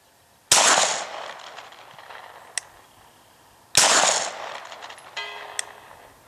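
Two loud, sharp gunshots from a Beretta CX4 Storm 9mm carbine fired at long range outdoors, about three seconds apart, each cracking close by and trailing off in a rolling echo, with a fainter pop or two afterward.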